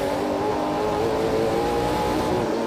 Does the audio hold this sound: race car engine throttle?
yes